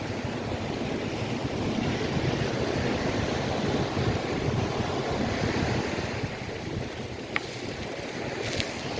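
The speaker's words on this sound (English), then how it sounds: "I drove through a wave there" Ocean waves washing up on Fort Myers Beach in Florida: a continuous broad roar of surf mixed with wind noise on the microphone, steady and fairly loud, with a couple of faint knocks near the end.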